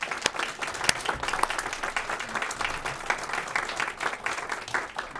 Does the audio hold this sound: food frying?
no